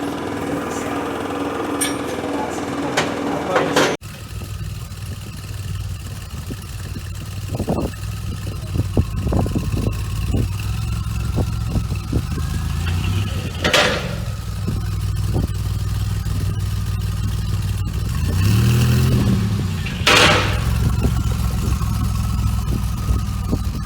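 A DeLorean with new poly anti-roll-bar bushings and lower control arm support links hums along on a test drive, steady engine and road noise with a few passing bumps and rattles, no talking.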